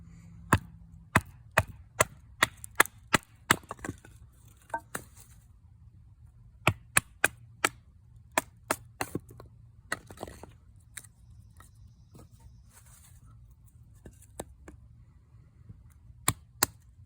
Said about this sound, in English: I'm going to cut this up, chop it into some sections